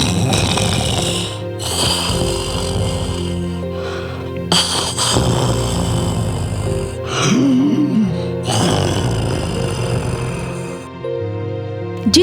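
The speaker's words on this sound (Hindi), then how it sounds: "गुफा के अंदर एक भयानक राक्षस लेटा हुआ सो रहा था और भयंकर आवाज वाले खर्राटे ले रहा था।" A monster snoring loudly in a cave, heavy rasping drawn-out breaths repeating in a slow rhythm with short pauses, close and forceful, with animated growling and gasping tones.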